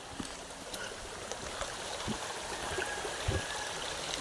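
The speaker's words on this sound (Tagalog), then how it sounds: "Wow, ilog." Steady broadband rush of flowing water, like a stream or river running nearby, with small splashes and knocks scattered throughout.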